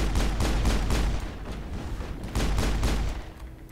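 Gunfire in the Mass Effect video game, rapid bursts of loud close shots firing in quick rhythmic volleys with a short lull before resuming.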